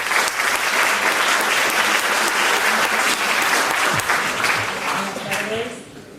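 Sustained audience applause fills a mental health and wellbeing congress hall, loud and dense with steady clapping throughout, tapering off near the end as a voice begins to speak.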